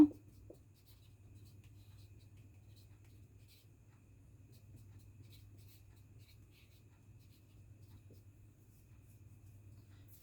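A pen writes on paper while working an HSC exam question about a 7-bit code, giving a faint, steady scratching that runs alone and close throughout with a low background hum.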